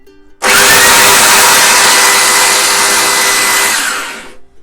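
A loud power drill whirs up abruptly and runs at a steady high pitch for several seconds before cutting off.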